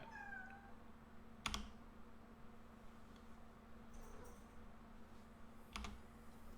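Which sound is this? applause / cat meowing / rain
cat meowing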